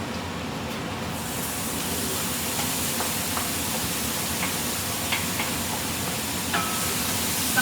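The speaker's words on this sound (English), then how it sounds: "I've got a skillet warming up here with about a tablespoon of butter, and I'm going to saute this" Onion and zucchini sautéing in about a tablespoon of butter in a warm skillet, a steady broadband sizzling hiss with scattered small pops and crackles, continuous and fairly loud, no talk.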